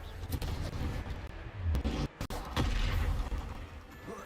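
Confringo blasting spell cast during a Hogwarts Legacy duel, a dense run of booming, crackling impacts that fills the clip, with a brief drop in the middle before the blasts resume loud and close.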